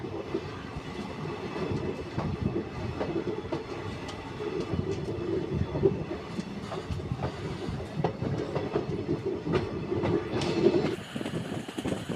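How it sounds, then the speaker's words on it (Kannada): A Mysore-bound passenger train rumbles along with rhythmic clickety-clack from the wheels and occasional metallic squeals, loud and close throughout. "ಇದು ಮೈಸೂರು ಟು ಹಸಿಕೆರೆ ಪ್ಯಾಸೆಂಜರ್"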